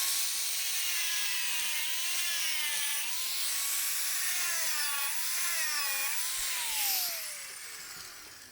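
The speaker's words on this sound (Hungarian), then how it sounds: "ezeket a csavarvégeket gyorsan ott kint levágom" Angle grinder cutting off metal bolt ends outdoors: a steady, high-pitched whine that wavers and bends in pitch as the disc bites into the steel, heard alone and fading at the end.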